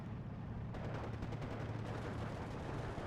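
Mortar and gunfire from the Steel Division 2 World War II strategy game: a dense burst of rapid shots and thudding impacts, loud and continuous, with a sharp onset of crackling fire partway through.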